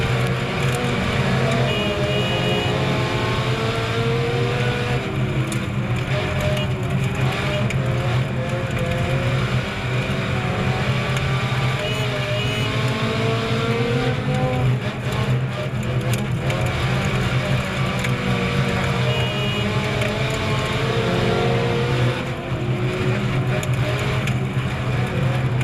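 Compact cars racing in a heat race on a track, a dense continuous roar of engines revving and passing, sustained and loud throughout with no pause.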